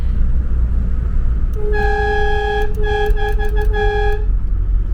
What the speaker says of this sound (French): J'adore ce klaxon